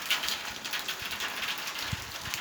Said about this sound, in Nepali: पानी पुरा परिरहेको छ हो।